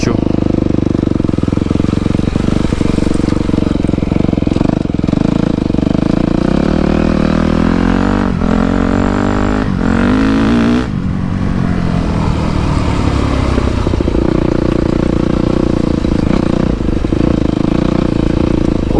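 A Yamaha YZF 250 motorcycle with a freshly ported carburetor runs continuously and loudly up close, its engine note rising and falling through revs with a steady rumbling drone that never drops out.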